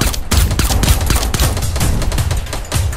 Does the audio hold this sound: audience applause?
no